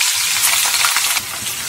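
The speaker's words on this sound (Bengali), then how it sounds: "পেঁয়াজগুলো ভেজে নেব।" Sliced onions hitting hot oil and spice masala in a pan, giving a loud, steady crackling sizzle up close with faint stirring scrapes and no voices.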